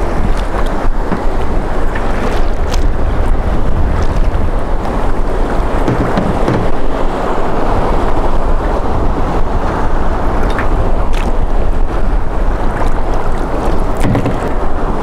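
A boat riding through ocean waves on open water, steady loud wind buffeting and rushing water with occasional slaps of the hull against swells, no voices.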